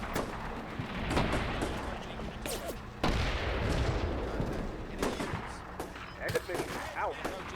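Artillery fire in the Combat Mission: Shock Force 2 war game, a dense run of broadband booms and crackling gunfire bursts, with a strong hit near the three-second mark, over steady battlefield rumble and faint radio-style voices.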